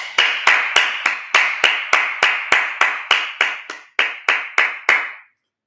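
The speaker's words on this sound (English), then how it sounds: "All right, let's clap it up." A group in a class claps about fifteen sharp, evenly spaced times, each clap with a short echo, steady in rhythm, then stops.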